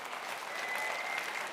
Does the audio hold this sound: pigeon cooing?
no